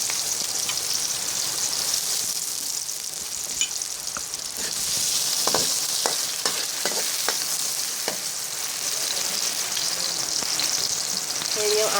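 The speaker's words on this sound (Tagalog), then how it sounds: "Unahin natin sa pagkikisa ay ang ating sibuyas. Sumunod po ay ating bawang." Onion and garlic sautéing in hot oil in a pan for pancit, a steady close sizzle with spatula scrapes and stirring taps throughout.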